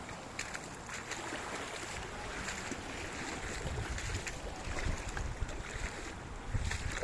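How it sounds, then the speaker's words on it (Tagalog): Sea waves wash against a shore in the Philippines after a coconut harvest, a steady broadband rush with gentle swells and wind blowing across it, no voices. "Ito dagat."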